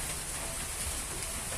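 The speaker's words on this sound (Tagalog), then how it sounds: "Maulan sa labas." Steady hiss of rain falling outside, a dense continuous patter with no voices.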